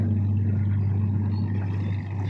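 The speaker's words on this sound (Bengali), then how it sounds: "নদী দিয়ে দেখেন কত সুন্দর ট্রলার যাচ্ছে" A trawler boat's engine on a river produces a steady, loud, low droning hum with a strong even pulse. The tone holds constant throughout, with no voices.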